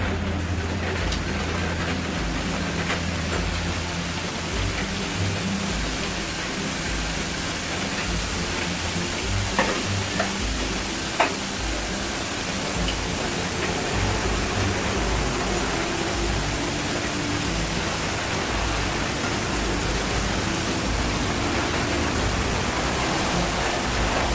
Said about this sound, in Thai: น้ำมันก็ร้อนแล้วนะคะจากนี้เราก็เบาไฟเป็นไฟกลางนะคะแล้วก็เอาขนมลงทอดนะคะ